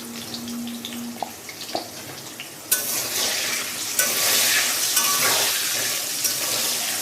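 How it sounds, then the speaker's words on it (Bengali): Large potato pieces frying in a wok with a little salt and turmeric, quiet clinks at first, then a sudden loud, broad sizzle as the pieces hit the oil, steady and close with scraping stirs. "আলুটা লাল লাল করে ভেজে নিচ্ছি"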